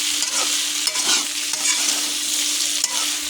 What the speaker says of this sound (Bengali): এখানে আমি পরিমাণ মতো মরিচের গুঁড়া দিয়ে দিলাম। দিয়ে আবারও ভালো করে নেড়ে দেবো।